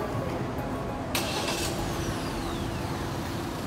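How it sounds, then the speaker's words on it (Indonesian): A Wuling Almaz RS car engine started remotely from a smartphone: a sudden crank and catch, then a steady idle hum that continues close and fairly loud, with no talking. "Yang pertama kita coba hidupkan mesin."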